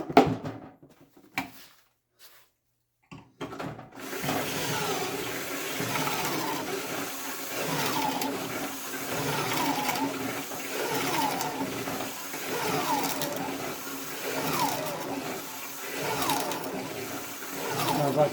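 A battery drill bores pocket holes in wood for a home project, a steady whirring grind running continuously after a few brief starts, close and fairly loud, with the motor seeming to labor as the battery runs low.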